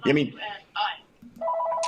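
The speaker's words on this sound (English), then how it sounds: "I don't know whose phone's ringing here" A mobile phone rings during an interview about a bass fishing tournament, a repeating electronic tone pattern sounding after a man's speech.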